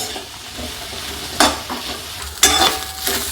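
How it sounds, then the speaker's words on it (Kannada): Flat broad beans frying in a little oil in a pan give a steady, low sizzle, broken twice by a sharp scrape of stirring. "ಇದನ್ನು ಚಲೋ ಫ್ರೈ ಮಾಡ್ಕೋಬೇಕ್ರಿ"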